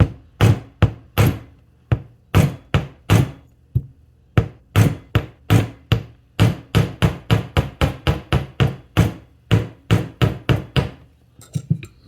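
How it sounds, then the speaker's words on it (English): A metal hammer strikes jewelry wire again and again to work-harden it for earrings, about thirty sharp, loud, close taps in an uneven but steady rhythm with short silences between. "I take my hammer and I hit it right here."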